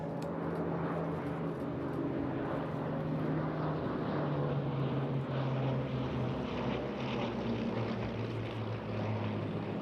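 A Bristol Blenheim flying past at an airshow alongside Supermarine Spitfires, its piston engines giving a sustained droning roar with a low steady hum that shifts pitch slightly as the aircraft passes at a moderate distance.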